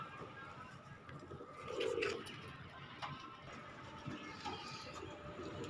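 Soft pigeon cooing in a short low burst, with faint background ambience and scattered distant chirps around it.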